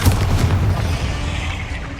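A Bombarda explosion spell in Hogwarts Legacy goes off as a loud, close boom, with a deep rumbling low end that fades slowly over about two seconds.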